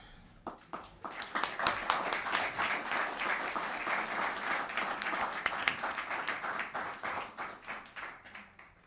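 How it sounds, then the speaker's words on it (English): Audience applauding a scholar walking up at a Boston scholar recognition ceremony, a few early claps swelling into sustained, even clapping that tapers slightly toward the end. "we can applaud each person as they come up"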